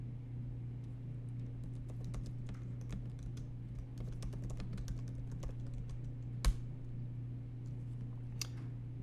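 Soft, rapid clicking of a computer keyboard as a git config command is typed, a continuous patter of keystrokes over a low electrical hum, with one sharper click near the end.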